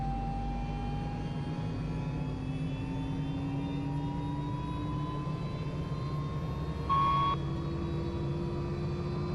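Medevac helicopter cabin in flight, with a loud, steady turbine and rotor drone and rising tonal whines that continue throughout. There are no clear breaks in the sound.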